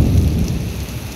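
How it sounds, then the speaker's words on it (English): Heavy rain during a thunderstorm at a zoo, a loud, close wash of rain over a deep rumbling thunder roll that slowly eases off. "That's a lot of thunder and lightning."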